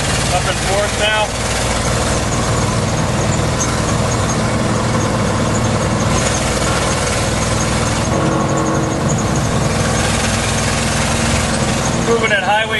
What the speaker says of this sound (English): Moving at highway speeds. The truck drives real nice on the highway. If you can get past the noise.